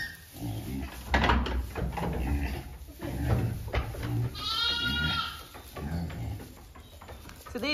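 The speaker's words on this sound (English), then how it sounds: "So these are our two pet dwarf pygmy goats, Apple and Olive." Two pet dwarf pygmy goats on a smallholding in spring bleat close by, several wavering calls rising over a rumbling, rustling farmyard background.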